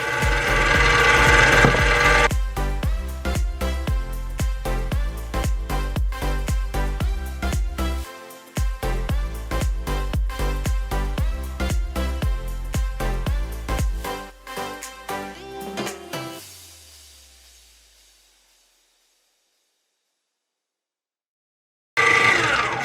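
An electric mixer beats thick pound cake batter, whirring loudly with rapid, rattling knocks against the bowl for about fifteen seconds, then winds down and stops, with a brief burst of whirring starting again at the very end.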